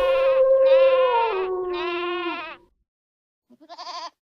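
Sheep bleating in a meadow, two long wavering bleats in a row followed by a short pause and a briefer, fainter bleat, close by and clear with no talk over them.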